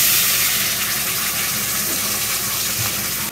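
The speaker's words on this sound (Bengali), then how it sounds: "ধোয়া জলটাও দিয়ে দিলাম।" Washing water poured into a cooking pan of spices and green chilies, a loud continuous gush of liquid lasting a few seconds.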